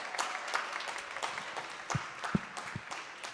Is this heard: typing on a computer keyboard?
no